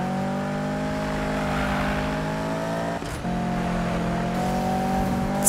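A race car engine in Need for Speed drones steadily at high revs with layered harmonic tones, dipping briefly mid-way as if shifting or skidding, then resuming loud and close.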